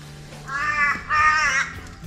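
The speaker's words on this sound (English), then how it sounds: "You get the birds though." A crow at a quiet campsite caws twice in quick succession, loud and close, against a still background.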